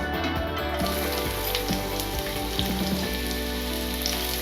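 Onions sizzle steadily in about three spoons of hot oil in a pan. The close, dense crackle keeps going without a break, with a few faint clinks over it.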